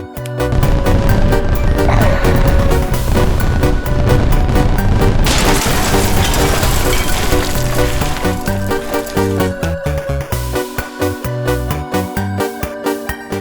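Dense crackling and sizzling bursts with heavy booms, loud and continuous, like a volley of fireworks going off close by, thinning out toward the end.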